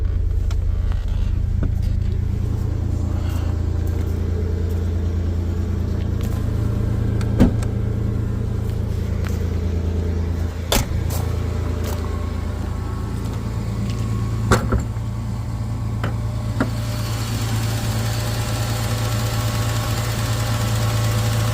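A 1996 Chevrolet S10 with a 4.3 engine and Holley Sniper fuel injection idles steadily after a cold start, a low even rumble heard up close, with a few brief clicks and a slight settling of the idle partway through.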